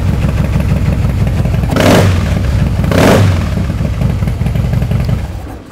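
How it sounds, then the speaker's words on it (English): A 2012 Harley-Davidson CVO Softail Convertible motorcycle engine runs close by with a loud, steady idle, revving twice in quick swells before settling back. "listen to this thing. Sounds like a Harley-Davidson's supposed to sound."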